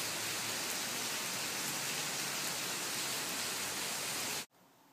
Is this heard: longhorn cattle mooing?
no